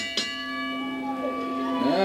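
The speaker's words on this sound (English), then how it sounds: "Ring the bell." Wrestling ring bell struck once to open a squash match, a sharp clang that rings on as a bright sustained tone for about two seconds, with a voice coming in near the end.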